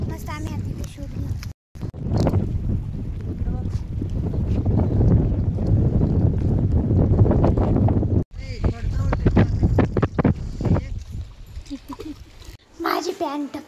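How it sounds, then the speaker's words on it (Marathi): Strong outdoor wind buffets the microphone in a steady, loud rumble, dropping out briefly twice. Voices, including a child's, talk through it. "वारा चालू आहे"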